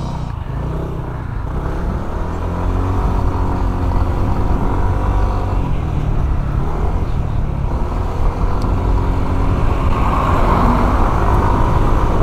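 Steady road traffic on a highway on the way to Baguio, a continuous close rumble of car and vehicle engines that swells slightly partway through and stays dense throughout.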